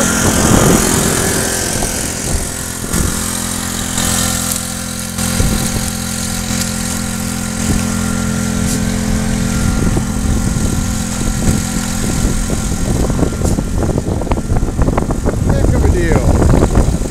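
A small pump runs on a homemade gold sluice with a header box, giving a steady mid-pitched engine drone throughout on a cold January day, with voices over it.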